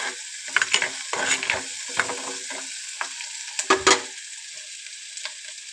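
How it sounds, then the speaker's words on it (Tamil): A bunch of curry leaves sautés in a pan for a bitter gourd and egg stir-fry, a soft hiss broken by several sharper crackling spurts and clatters, with no voices. "கருவேப்பிலை ஒரு கொத்து, இதெல்லாம் நல்லா வதங்கட்டும் ஃப்ரெண்ட்ஸ்"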